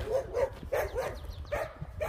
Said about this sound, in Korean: 또 개들이 짖고 난리네